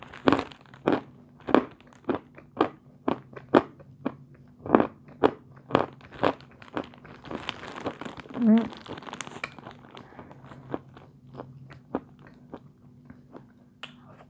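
Crunchy sweet being bitten and chewed up close, a steady series of sharp crisp crunches that loosen into softer, irregular chewing, with a brief voice sound in the middle.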